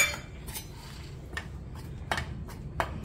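A spoon clinks and scrapes against a bowl while gram flour is slowly stirred into a moong batter, a few sharp metallic taps over a quiet background.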